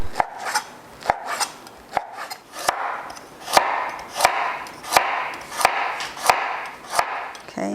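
A knife chops vegetables on a cutting board for a Korean stir fry, sharp regular knocks about one per second, close and clear with a faint rustle between strikes.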